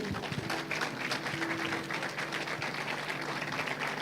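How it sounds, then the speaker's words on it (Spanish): Applause from a church congregation welcoming a visitor at a Sunday service, a dense, steady clapping that fills the room for the whole stretch without pause. "Le vamos a dar un aplauso de bienvenida."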